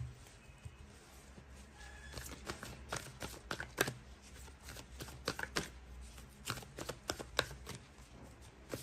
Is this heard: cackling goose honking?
no